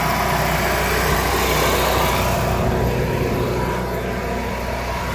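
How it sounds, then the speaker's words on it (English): A steady, loud RV generator drones nearby, a constant low mechanical hum with a rumbling engine tone that never changes pitch. "It's gonna be a little loud. We're by the generator now."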